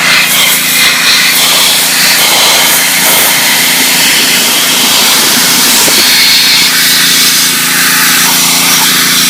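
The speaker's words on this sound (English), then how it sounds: "We decided to pressure wash it." A pressure washer blasting degreaser off the valve cover of a 1993 Jeep Wrangler YJ, a loud, constant hissing spray with a steady motor drone underneath, close up and unbroken throughout.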